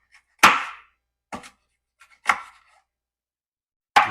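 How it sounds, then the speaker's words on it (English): A dull kitchen knife chops bell pepper on a cutting board: four separate, crisp thuds at uneven intervals with near-silence between them. "so I'm gonna chop this up"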